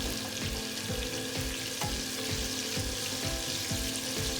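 Fish and masala fry in a hot pan with a continuous bright sizzle, punctuated by regular spatula scrapes and taps, loud and close.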